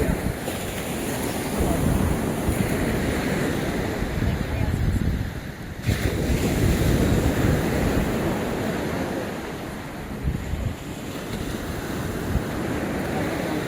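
Sea waves wash steadily onto the shore at a Mersin beach, a continuous surf roar mixed with wind buffeting the microphone, with faint voices in the background.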